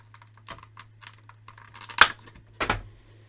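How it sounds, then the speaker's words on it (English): Nail clippers snip the plastic tie holding a McFarlane DC Super Powers Superman action figure: faint close ticks and rustles, then two sharp clicks over a low hum. "take a pair of scissors, or in my case, a pair of nail clippers, and just clip the tie"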